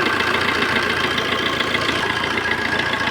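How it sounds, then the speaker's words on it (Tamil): A 2010 Tata Vista Quadrajet diesel car with 97,000 km sits idling with the air conditioning on, giving a steady, loud, dense engine rumble with a slight knocking texture and no voices. "இந்த பாருங்கள், வண்டி இன்ஜின் ஆனில் இருக்குது, ஏசி போட்டிருக்கேன்."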